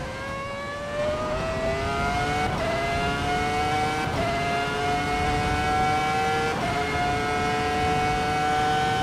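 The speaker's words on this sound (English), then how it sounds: "F2004 legendary car. Super cool car. It sounds amazing." A Ferrari F2004 Formula One car in a racing simulator screams down a straight, its high engine note climbing steadily through repeated upshifts with brief dips at each gear change, loud and continuous.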